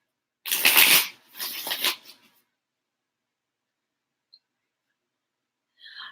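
Tarot cards being shuffled in two quick bursts of riffling close to the mic, then near silence with a tiny tick and a brief final shuffle at the end.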